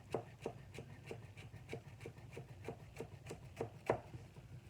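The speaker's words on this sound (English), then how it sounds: "So you're going to roll it up just like so, nice thin rolls. And then we're going to slice." A chef's knife slices thin rolled basil leaves into chiffonade on a cutting board, a steady series of about fourteen crisp, evenly spaced chops close by, with no talking.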